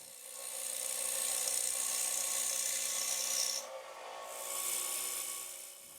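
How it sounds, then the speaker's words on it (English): A wood lathe spins a bowl blank while an Easy Wood Tools rougher plunges into the wood, giving a steady high scraping hiss that dips briefly and then resumes, moderately quiet and continuous. "simply plunge the rougher into the work."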